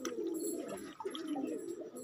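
Pigeons at a loft cooing in low, throaty pulses, several birds overlapping in a soft, rolling murmur with a few sharper chirps near the start, fairly close and continuous.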